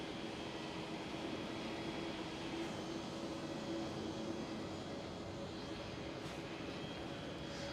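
Airliners taxi at Amsterdam Schiphol airport, heard as a steady, distant jet-engine drone that holds evenly throughout, with no talking.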